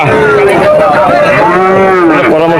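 At a Khulna cattle market, a cow gives a loud, close, drawn-out moo with wavering pitch that fills the whole moment and drowns out the background.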